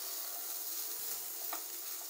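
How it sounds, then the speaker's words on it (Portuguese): Bacon frying in a pan while making a restaurant-style risotto, a steady close hiss of sizzling fat that carries on without a break, with a faint stir or scrape partway through and no talking. "Ó, tá aqui nosso bacon. Acho que eu vou deixar ele fritando mais um pouco."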